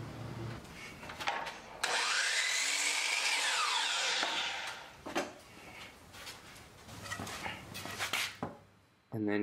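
A power tool drives 2.5-inch pocket hole screws into a 2x4 workbench frame, a loud high whirring burst lasting a couple of seconds, followed by quieter rubbing and handling noises of wood.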